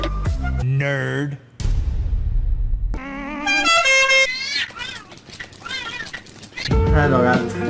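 A cat meows in several drawn-out, wavering cries, loud and close, mixed with horn-like tones and other voices in a busy meme-style sequence.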